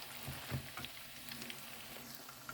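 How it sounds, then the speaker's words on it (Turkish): Soft, steady sizzling of zucchini fritters (mücver) frying in a pan, with faint crackles and pops scattered throughout and no talking. "bu şekilde onları da kızartacağım"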